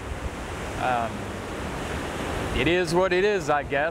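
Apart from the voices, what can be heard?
ocean surf waves on a Texas beach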